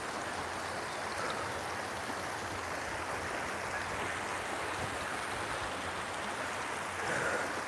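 Water flows steadily in a broad, even hiss and wash that holds at a constant level throughout, without any voices.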